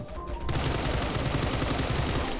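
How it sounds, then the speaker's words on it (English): Sustained automatic gunfire from a shooter video game, loud and close, rattling continuously for about two seconds after a brief quieter lead-in, with no talking. "I'm shooting at ghosts."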